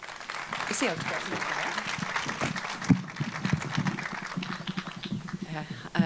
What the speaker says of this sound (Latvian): Lūdzu, ar aplausiem sagaidām Inesi.